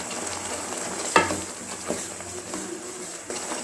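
Ground tomato paste for fish curry sautés in a pan, giving a steady close sizzle with occasional stirring scrapes and small knocks against the pan.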